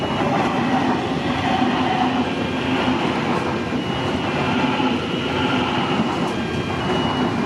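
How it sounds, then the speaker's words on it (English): A ten-car passenger train bound for Mount Victoria rolls through the Blackheath level crossing in the Blue Mountains, New South Wales, a loud, close, continuous rumble of wheels and carriages with no voices. "After this train is passed, I'm going to cross over so I can get back to the station."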